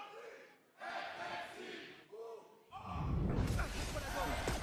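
Crowd noise from the audience at a live VCT EMEA Valorant esports match, with Fnatic playing. Loud cheers and shouts rise and fall, then swell into a big sustained roar near the end.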